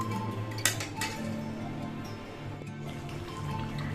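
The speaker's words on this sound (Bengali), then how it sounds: "এবার এটাকে একটু নাড়াচাড়া করে নেবো, নাড়াচাড়া করে একটু ঢাকনি দিয়ে দেবো" Chicken is stirred in a cooking pot in a home kitchen, and a lid is then set over it. Light metallic clinks and scrapes sound close by, with a sharper clink near the start.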